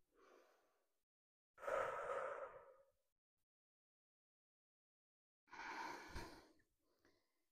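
Slow breaths during a yoga session, a short soft exhale followed by two longer, fuller breaths separated by silence, close and alone without talking.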